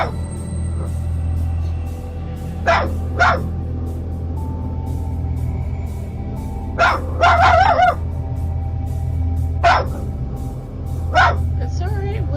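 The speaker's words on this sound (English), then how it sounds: "We can see the dog continuously barking at the doorway" A dog barks at a doorway in sharp, separate barks, sometimes in quick pairs or short clusters, repeated every few seconds over a constant low hum. The barks sound moderately close.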